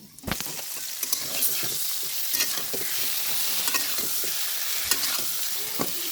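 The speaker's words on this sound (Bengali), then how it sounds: "তো মাছটাকে একটু কষিয়ে নেব সুন্দর করে।" Fish sautés in a pan with a steady close sizzle, with frequent scraping stirs and clicks of a spatula over the frying, and no voices.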